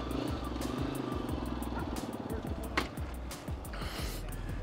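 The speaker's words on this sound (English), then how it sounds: "Here comes some dirt bike riders." Dirt bikes riding past outdoors on an overcast day, a buzzing two-stroke-style engine drone with rapid pitch sweeps as the riders pass, moderately distant over a constant background roar.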